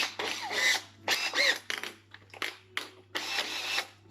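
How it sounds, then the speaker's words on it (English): A power drill fitted with a Velcro sanding pad works the middle of a steering wheel in several short whirring bursts separated by pauses, close and fairly loud, with scraping grit between runs. "if I chuck that in the drill, it'd be a lot quicker to sand that middle of that steering wheel down"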